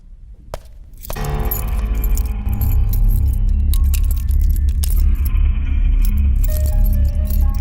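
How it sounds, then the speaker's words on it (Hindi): A bunch of keys jangles up close beside a locked door in a Hindi-dubbed South Indian thriller film, with loud, continuous metallic clinking and rattling after a quiet opening second. "चाबियां लेकर आती हूँ।"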